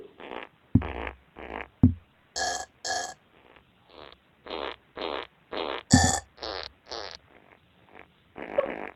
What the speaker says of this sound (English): you can actually make sounds using burp and fart recorded noises